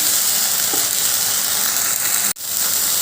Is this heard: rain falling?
no